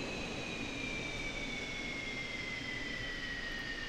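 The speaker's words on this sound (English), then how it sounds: "Shut down the engines." F-15C jet engines spinning down in DCS World, a steady faint roar under a thin whine that slowly falls in pitch, with no other sounds.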